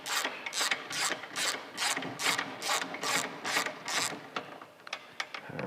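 A ratchet wrench clicks in quick, regular bursts while loosening the lower mount bolt of a Harley Softail shock, up close and steady with no talk.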